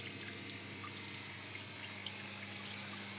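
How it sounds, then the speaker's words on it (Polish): Faint, continuous trickle of water from a small terrarium waterfall, a soft steady babble with a low pump hum underneath. "Teraz będzie mocniej leciała woda."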